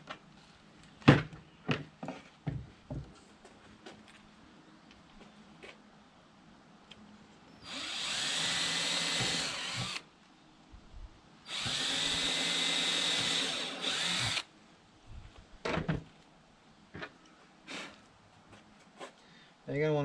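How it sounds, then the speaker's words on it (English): A power drill bores through a board lifted off a table, two sustained whirring bursts of a few seconds each, separated and surrounded by clacks and handling noises. "when I drill through, I don't drill into my table"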